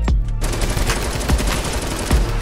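Rapid automatic fire from a Fortnite drum gun in a video game, a loud unbroken burst of shots close up after a short quieter opening, with no talking.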